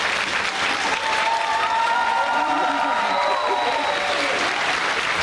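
A hall audience at a school's 25th anniversary celebration breaks into vigorous sustained applause, many hands clapping evenly and loudly throughout, while a faint voice and soft tones carry under the clapping.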